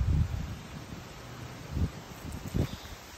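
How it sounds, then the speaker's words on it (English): Gusts of wind buffet the microphone outdoors, with low rumbling bursts and a rustling texture that swell and fade several times. "It is windy as heck out here."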